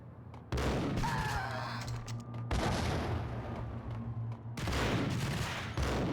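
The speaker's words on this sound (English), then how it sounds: "Who is throwing these grenades, bro?" Rapid bursts of gunfire and grenade blasts from the shooter video game Max Payne, dense and loud, running almost continuously with brief gaps.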